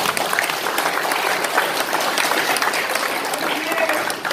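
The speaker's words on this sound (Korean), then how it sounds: "우리 서석구 변호사님에게도 박수 한 번 부탁드리겠습니다." Audience applause at a symposium for lawyer Seo Seok-gu, a steady roomful of clapping held for several seconds, fairly loud, with faint murmuring beneath it.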